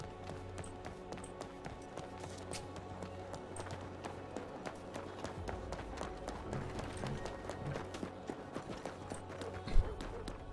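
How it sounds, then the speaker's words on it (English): Horse hooves in Red Dead Redemption 2 RedM roleplay, a steady clip-clop of a horse moving at pace, even rhythmic footfalls with a sharper thump near the end, with people talking over it. "There's a horse over here."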